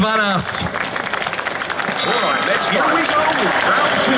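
A large crowd at the Next Gen Expo 2012 gaming show bursts into sustained, dense applause, loud and close, with an announcer's voice briefly heard at the start.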